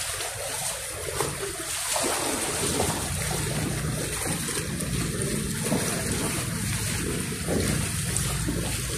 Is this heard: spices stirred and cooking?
no